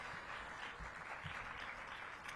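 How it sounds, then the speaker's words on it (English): A crowd at a city housing event gives a round of applause, a soft, distant and steady patter of many hands clapping that runs evenly throughout, with nobody speaking. "So let's give Kiviet another big round of applause"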